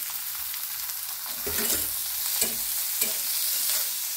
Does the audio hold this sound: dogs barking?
no